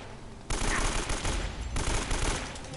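Enemy gunfire in Uncharted: Drake's Fortune, sustained automatic bursts rattling loud and close with a break near the middle before the firing resumes; no talking.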